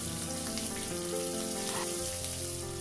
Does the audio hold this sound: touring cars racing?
no